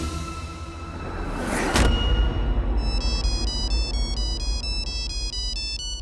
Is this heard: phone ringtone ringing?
yes